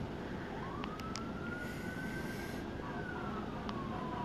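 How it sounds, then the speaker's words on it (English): An ambulance siren wails faintly in the distance during a tornado in Pensacola, its pitch rising then falling as it passes, over steady background rumble. "That's about the 8th ambulance I've seen is right here."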